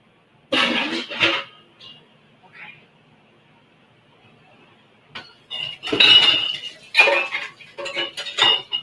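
Glass jars clink and clank against each other in a kitchen in irregular bursts, close and fairly loud. Quiet stretches come between the bursts, and a voice speaks faintly in between.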